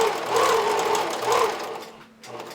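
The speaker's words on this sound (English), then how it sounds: "I stitch right through my sequins." A sewing machine stitches through sequin fabric with a seam allowance, its motor whirring steadily in two close, loud bursts before slowing and briefly pausing.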